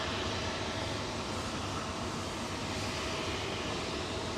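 An MNG Airlines A330-200 freighter at London Heathrow, runway 27L, produces a continuous broad engine roar that holds steady throughout, with no voices.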